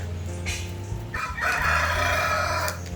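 A rooster crows loudly and nearby at a chicken coop while it is being cleaned, with softer clucking from other chickens before the drawn-out call.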